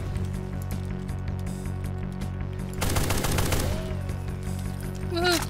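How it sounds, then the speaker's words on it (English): A rapid burst of automatic gunfire rattles out in the Brutal Doom video game, a dense stutter of shots lasting about a second over a steady background hum, with a few squelching game effects after. "Who the hell is shooting at me?"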